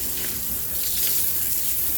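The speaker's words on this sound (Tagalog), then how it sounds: "At sinasabayan ko yung paglabas ng tubig dun sa gate." Water rushes out through a gate while someone cleans up mud after rain in Riyadh, a continuous broad gushing wash at steady loudness with no talk.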